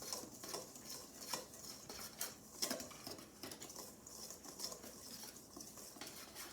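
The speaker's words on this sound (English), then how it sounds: "And I'm going to take a whisk and whisk those together." A whisk mixes baking powder, soda, salt and other dry muffin ingredients in a bowl with quick, rhythmic metallic clinks and scratches, faint but close and continuous.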